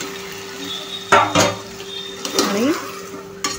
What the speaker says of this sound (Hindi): लगेचच आपण हे मिक्स करणार आहोत हाय फ्लेमवरती